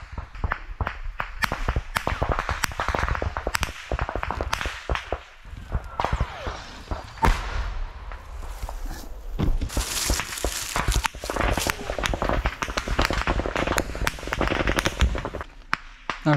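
Dense combat noise with rapid, sharp bangs and cracks of gunfire and explosions, some close and loud, others more distant, firing almost without pause, with occasional voices.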